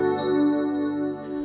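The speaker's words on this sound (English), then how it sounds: "This is the electric piano again." A short passage of the Korg Pa5x electric piano voice, a warm sustained chord with soft tine-like overtones that swells slightly and fades, heard close and alone.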